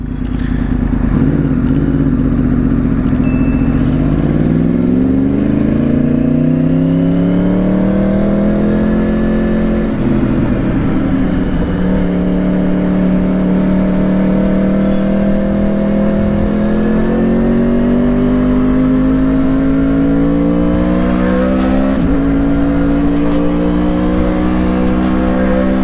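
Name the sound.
Yamaha R1 Crossplane superbike engine revving while riding, TOCE exhaust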